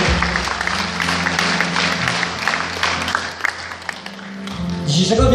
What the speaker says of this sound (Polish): Wielkie brawa dla Pauliny.